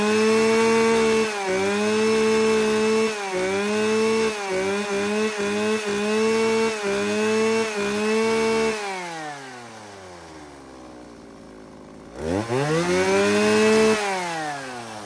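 A small 33cc chainsaw fitted with a mini chain runs close and loud, idling, then revving in repeated short bursts. The engine drops away to near silence before restarting with a rising, buzzing whine.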